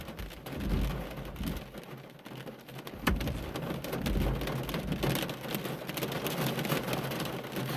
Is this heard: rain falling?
yes